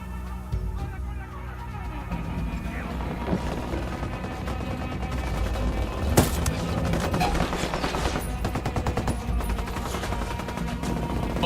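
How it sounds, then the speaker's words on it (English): Sustained automatic gunfire rattles through a firefight in the tactical shooter Ghost Recon Wildlands, with overlapping bursts from multiple weapons and one sharp, louder crack partway through, continuous and moderately loud. "Opening fire on these fuckers."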